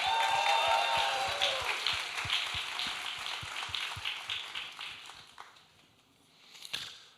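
A live podcast audience claps loudly in a dense burst that thins into scattered claps and fades out, followed by a brief voice near the end.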